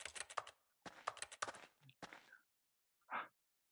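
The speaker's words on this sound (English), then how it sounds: "why is the interaction sound like a fucking keyboard" Clustered clicky taps like keystrokes sound as an interaction effect in a video game, in a few quick bursts separated by short gaps, then one isolated softer click, quiet and close.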